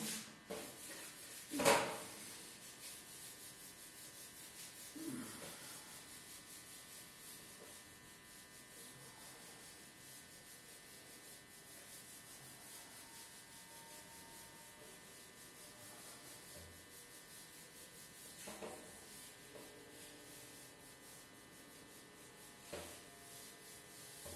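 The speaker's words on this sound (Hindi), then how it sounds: "और मैं इसको एक बार रब कर देता हूँ।" An eraser is rubbed back and forth across a classroom board in a continuous, even scrubbing sound that lasts the whole stretch, with a few louder bumps and knocks along the way.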